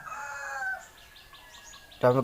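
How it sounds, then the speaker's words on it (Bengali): Tiger chickens of different ages at a poultry farm in Gopalganj give a drawn-out crow and clucking calls, with chirps from chicks in the background and a short burst of voice at the end. "বিভিন্ন বয়সের টাইগার মুরগি"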